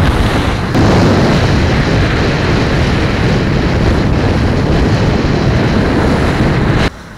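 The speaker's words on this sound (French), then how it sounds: "On a des rafales qui sont autour de 19-20" Loud, roaring wind in gusts of about 19-20 knots buffets the microphone aboard a sailboat without a break, a heavy rushing noise that cuts off abruptly near the end.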